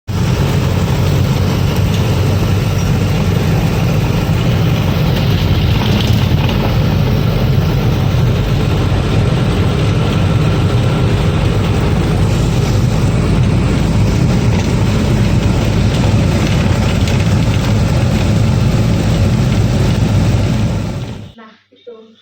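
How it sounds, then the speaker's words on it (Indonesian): The engine of an old bus rumbles loud and close in a steady, coarse drone for about twenty seconds, then cuts off abruptly at the end. "Ternyata itu tuh mobil tua"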